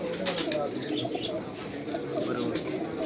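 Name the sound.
pigeon cooing, female of a mated pair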